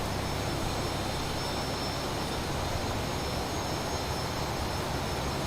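A Cessna T-37B Tweet military training jet in Microsoft Flight Simulator roars with a constant, loud, dense jet-engine whine and rush that holds steady from start to finish.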